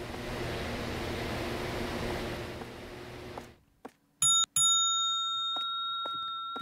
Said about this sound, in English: You have to ring the damn bell